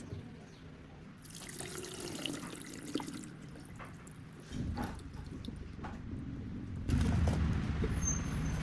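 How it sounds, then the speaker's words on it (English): Water runs from a tap over salted garlic being rinsed in a sink, a soft, uneven splashing stream that swells and shifts as the cloves are moved about beneath it. "now I'm going to rinse it well to remove the excess salt."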